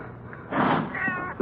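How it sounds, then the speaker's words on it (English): A cat meows as a radio drama sound effect, a single drawn-out meow followed by a second wavering cry, close and fairly loud in a quiet scene. "might be it's just a cat out in the street, out in the side alley, maybe"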